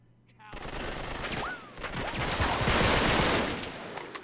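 Sustained bursts of automatic gunfire from an Uncharted 3: Drake's Deception firefight, loud and dense rounds rattling continuously for several seconds with overlapping shots and a short dip midway.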